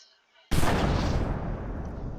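A bomb explodes in Garry's Mod with a sudden, loud, close blast that fills the sound and rumbles on without fading.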